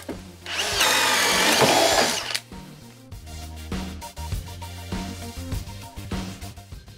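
Hilti Nuron cordless drill whining loudly for about a second and a half, then cutting out abruptly, followed by quieter intermittent mechanical knocks and hums.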